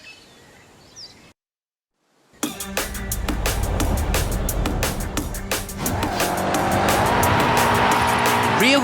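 A rear-wheel-drive car with a 6.2-litre 750 bhp V8 and custom camber drifts in Forza Horizon 5 at a Mexico drift club. A brief quiet opening gives way to a loud, revving engine and long screeching tire squeal that builds steadily.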